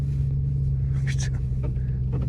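An 800 hp car sits in snow with its engine droning in a deep, steady rumble while the wheels spin, a harsher rising whir briefly swelling over the low hum.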